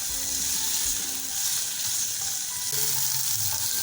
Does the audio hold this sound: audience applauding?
no